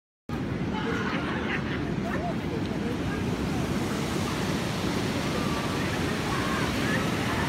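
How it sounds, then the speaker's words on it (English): Surf rolls onto a beach where swimming is banned because the waves are big, a constant loud wash of breaking water mixed with wind buffeting the microphone and faint voices in the background. "can you hear those waves?"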